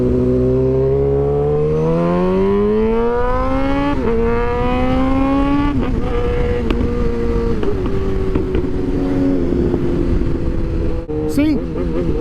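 A motorcycle engine on the move: a loud, continuous drone climbs in pitch, drops sharply at each downshift and climbs again, several times over, close up and steady against wind noise.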